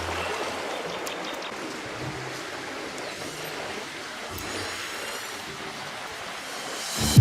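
A river flowing in rural Africa, a continuous broadband rush and wash of moving water that stays steady and fairly close throughout, ending with a brief louder knock or splash at the close.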